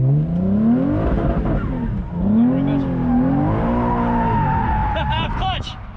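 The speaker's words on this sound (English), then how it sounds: "here's Jacob doing a donut." A rear-wheel-drive Audi spins through a donut, its engine note swooping up and down with each push of the throttle while the tires squeal and skid, loud and close for several seconds.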